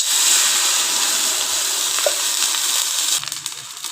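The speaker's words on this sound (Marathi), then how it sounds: "पाणी घालू" Water pours into a pan of khaman tempering of oil, mustard seeds and green chillies as a loud, steady hissing rush that stops after about three seconds, leaving faint clinks.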